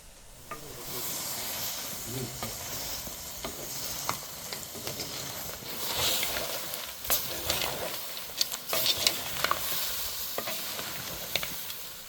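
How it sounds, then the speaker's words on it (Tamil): Crab and drumstick leaves, with crushed ginger and garlic, frying in a pan for Jaffna-style crab curry, a close, hissing sizzle that swells with repeated stirring and scraping clatters toward the end. "நண்டும் முருங்கைக்கீரையும் நல்லா வதங்கி வந்துட்டுருக்கு."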